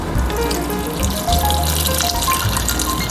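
Water running steadily from a kitchen tap during home cooking of chicken afritada, a continuous broadband gush with slight surges, fairly loud and close, with no talking.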